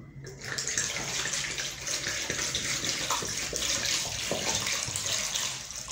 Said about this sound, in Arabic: غادي نكب هاد لتر ديال الماء كامل هنايا